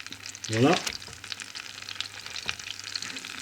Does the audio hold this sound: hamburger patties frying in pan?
yes